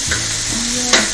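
Onion frying in a pan while a fideuà of Gandia is prepared, giving a loud, dense, continuous sizzle over a brief moment with a couple of faint stirring clicks.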